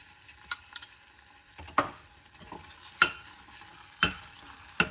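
Ghee stirred into sweet jaggery sakkara pongal in a pan: a quiet background broken by about half a dozen distinct spoon taps and scrapes against the pan, spaced roughly a second apart.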